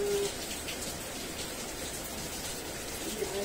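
Heavy rain pours steadily in a continuous broadband wash, dense and fairly loud, with no break across the clip.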